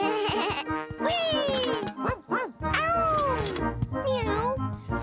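A cartoon cat meows several times in rising and falling drawn-out cries, with children's cartoon voices and speech mixed in around the calls.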